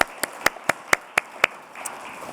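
Single hands clapping at a steady, even pace after a lecture announcement, six or seven crisp claps close by, trailing off into a soft murmur of room noise.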